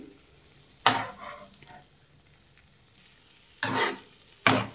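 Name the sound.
eggs frying in a pan for egg pepper dry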